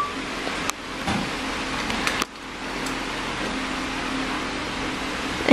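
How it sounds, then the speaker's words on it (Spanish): Electric fan running steadily on a hot day indoors, a constant close airy whir with a couple of brief knocks and dips in level. "Lo que escucháis es el ventilador"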